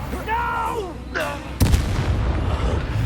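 A Confringo blasting spell from Hogwarts Legacy lands as a sudden loud blast with a rumbling tail, after a few seconds of tonal, voice-like sounds.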